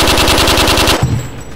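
Automatic gunfire in the video game Project Reality, a loud rapid burst of about twelve close shots that stops abruptly and gives way to a quieter rumble.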